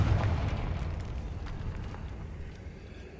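Confringo fire spell exploding in the Hogwarts Legacy video game, a quick muffled burst that rolls off into a fading rumble over about three seconds.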